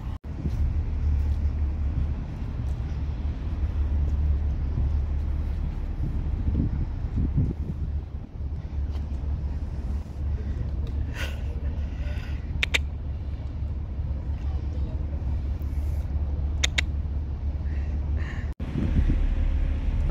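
Strong wind buffets an exposed hilltop lookout, roaring steadily and close into the microphone for the full stretch, with a low rumble beneath and a few brief higher knocks.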